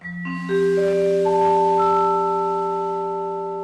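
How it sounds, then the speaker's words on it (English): Vibraphone metal bar notes struck one after another, stacking into a chord that rings on with long, shimmering sustain, clear and close with no voices. "This one's a vibraphone."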